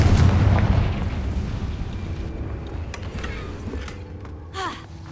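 Confringo fire spell blasting in Hogwarts Legacy, a loud booming burst at the start that rolls off into a rumbling tail, with a sharper crackling whoosh near the end.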